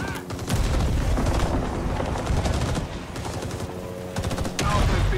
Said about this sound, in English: Oops, grenade.